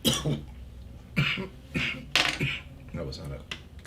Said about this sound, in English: was not a COVID-friendly cough